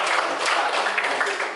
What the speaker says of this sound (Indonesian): Tepuk tangan dulu buat Bella.